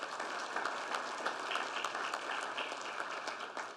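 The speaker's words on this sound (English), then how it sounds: "Let's give Grace Life a round of applause." Audience applause fills a church hall during a police fallen officers tribute ceremony: steady, dense clapping from a large crowd, close and sustained throughout with no talk over it.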